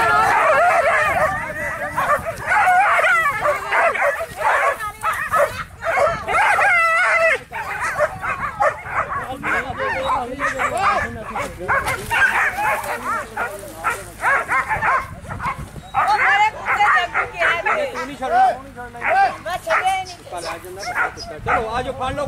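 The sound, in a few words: hunting dogs barking during rabbit hunt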